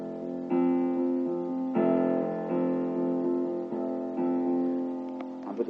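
Piano left hand sounds a low F octave, struck three times in steady succession, each note ringing out clearly and alone with no talking.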